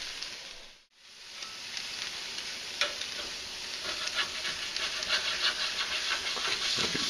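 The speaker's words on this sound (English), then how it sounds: "If your block is hot enough, you're always going to have a nice sear on the flesh" Salmon flesh sears on a hot Himalayan salt block, giving a close, continuous hiss and sizzle that briefly dips near the start, then builds with scattered crackles and spits.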